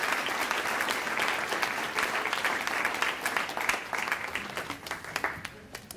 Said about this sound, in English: Let's have another round of applause for the Washington High School vocal music group